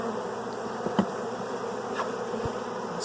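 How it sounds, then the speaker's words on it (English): Bees inside a hive during package installation, a continuous close buzzing drone that stays steady throughout, broken only by a couple of faint knocks. "I see a few bees in there."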